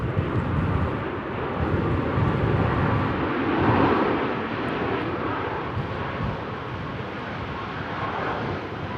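A Ryanair airliner landing at Manchester Airport in a windy storm, its engine roar a broad, steady rumble that swells slightly near the middle and holds throughout, heard at a distance without speech.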